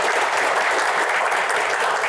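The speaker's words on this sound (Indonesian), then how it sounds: "tepuk tangan untuk Pak Burhanuddin" Dense, even applause fills the moment at a panel Q&A event, a crowd clapping loudly and continuously without a break.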